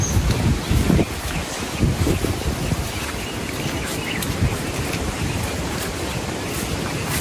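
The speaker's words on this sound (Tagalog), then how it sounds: "Tapos po ngayon ay mahangin pa rin." Strong wind blows steadily across an open shore, buffeting the microphone with low rumbling gusts, heaviest in the first couple of seconds and then settling into a constant roar with faint water wash beneath.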